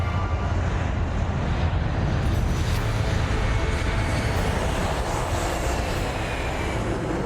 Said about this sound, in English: under a cloudless sky, the A380 accelerates down the runway